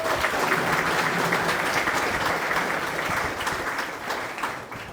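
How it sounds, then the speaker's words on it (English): An audience at a Kinston baseball announcement event gives steady, rolling applause for the Down East Wood Ducks baseball team, tapering slightly toward the end. "please give our previous team, Down East Wood Ducks, a round of applause for being here again"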